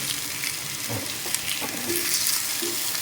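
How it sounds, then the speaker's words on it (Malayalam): Dried red chillies frying in a hot pan, a dense continuous sizzle with occasional stirring clinks and crackles, close and loud, no speech. "നമുക്കിനി ഇതിലേക്ക് ഉണക്കമുളക് ഇടാം കേട്ടോ ചുവന്ന മുളകാണ്"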